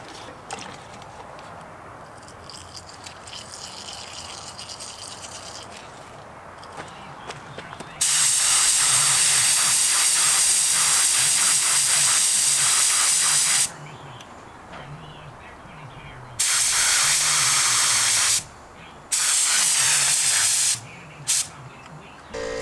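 Bursts of a paint spray gun hissing loudly as it is flushed clean, long sustained blasts separated by shorter ones and brief pauses, with quiet background noise between them.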